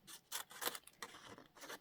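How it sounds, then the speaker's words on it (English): Scissors cut out black card for a junk journal page, making several crisp snips and paper rustles close by in a quiet room with no talking. "the only way we can see if we really like that or not is to cut this out"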